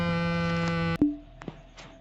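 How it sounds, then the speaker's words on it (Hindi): Mobile phone ringing in the horror temple game Endless Night, a sustained electronic ring tone that cuts off sharply into a brief resonant ping, followed by faint clicks, with no talk. "और ये किस चीज़ का आवाज़ है बे? ओहो, मोबाइल फ़ोन।"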